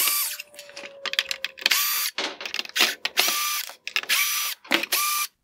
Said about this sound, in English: I will begin by removing the Phillips head screws holding on the reflector for the light bar.